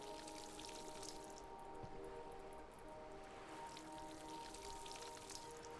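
A watering can pours over crops in a cozy farming game on a plesiosaurus houseboat: a faint, soft trickle of splashing water beneath quiet sustained background music.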